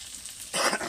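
Pointed gourd (potol) frying in a pan: a soft, low background gives way halfway through to a sudden burst of bright, crackling sizzle that holds steady to the end.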